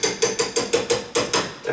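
Wire cutters tap a door hinge pin down in a steady series of about nine sharp metallic knocks, evenly spaced and close, each with a brief ringing decay and no talk over them.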